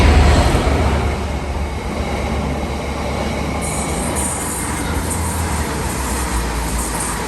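A train rumbles past close by with heavy low-frequency roar and high wheel squeal along the rails, loud and sustained throughout.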